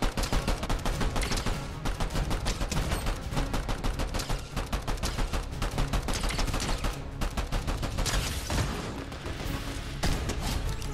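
A Rodey Bros Ranger pistol fires in a video game: rapid, continuous shots crack out in a steady stream for several seconds, loud and close, with no pauses.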